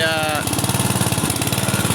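A small engine driving a water pump for a drip irrigation system runs close and loud with a steady, rapid chugging pulse. Someone speaks briefly over the start.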